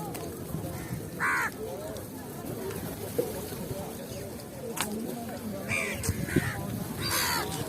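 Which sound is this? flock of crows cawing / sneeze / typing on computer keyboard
flock of crows cawing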